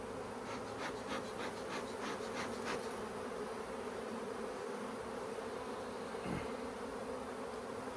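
Honey bees buzzing in an opened hive during a hive split, a dense continuous drone filling the whole stretch, loud and close, with a few faint clicks early on and no speech.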